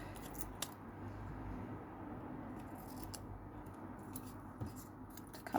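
Scissors snipping the white border off autumnal craft paper, a run of soft, close crisp cuts in a quiet room with a few sharper snips standing out.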